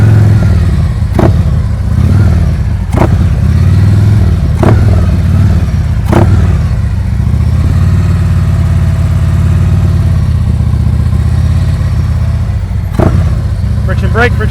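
A motorcycle engine idles and rumbles steadily during slow-speed practice riding, with repeated short throttle blips rising over it and a voice talking throughout.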